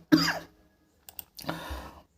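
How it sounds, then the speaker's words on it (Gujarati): A brief cough from a teacher hoarse after long continuous talking, two short harsh bursts separated by a pause with small clicks between, close and alone. "સતત બોલવાથી મિત્રો ઉધરસ ચડી છે"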